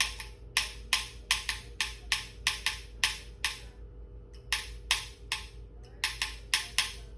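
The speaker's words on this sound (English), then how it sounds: "this is a telegraph machine right here" A telegraph key clicks out rapid, uneven taps in short groups with brief pauses, crisp and close over a low steady hum.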